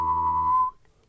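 A man whistles and hums at the same time, a single steady whistled tone over a low hummed drone, producing a discordant two-part sound meant as the French national anthem; it is close and clear for under a second, then cuts off.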